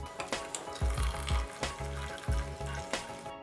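Boiled dry noodles are drained, with water pouring and splashing steadily in a sink in a loud close gush that rises and falls in rhythmic surges.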